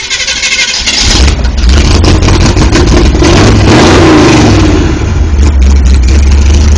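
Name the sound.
classic car engine starting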